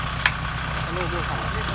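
A tractor engine idles and runs steadily at a distance while working a rice field, a low continuous rumble under quiet background talk and a single brief sharp click near the start.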